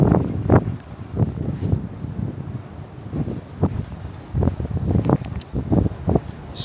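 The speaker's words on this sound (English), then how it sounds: "It's actually really, really windy at the moment. You can hear it whistling." Strong gusts buffet a beachfront apartment balcony at Emaar Beachfront, a rough roaring rush that swells and fades in repeated bursts, with faint whistling tones above the close, steady wind noise and no talk.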